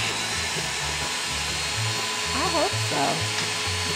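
A chainsaw chain is sharpened with a powered sharpening tool, a steady high whine running throughout at close range, with a person speaking briefly over it.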